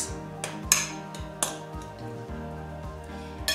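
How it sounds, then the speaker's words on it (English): Seasoned cauliflower rice being stirred, with a metal utensil knocking and clinking against a pan or bowl in irregular strikes, close by over a faint background hum, no talking. "give it a good mix"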